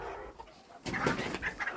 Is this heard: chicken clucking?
yes